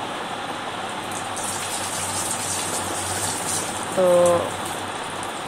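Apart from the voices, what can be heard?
banana pitha batter frying in oil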